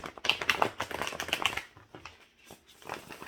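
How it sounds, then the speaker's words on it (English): Rapid papery riffling of tarot cards being shuffled close by, a busy flurry that trails off into a few softer flicks. "you saw me shuffle them cards good"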